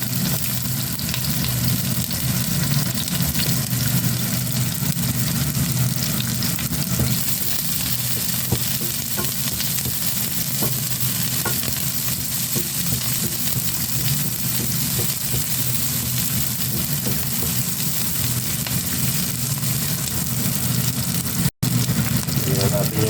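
Onion and garlic frying in a pan for pork adobo, a loud, steady crackling sizzle that runs unbroken throughout with occasional spatters.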